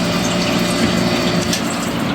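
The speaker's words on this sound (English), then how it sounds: "see if the sump works." A sailboat's shower sump pump hums and gurgles as water is pushed through, a steady continuous mid-loud churning with no pauses.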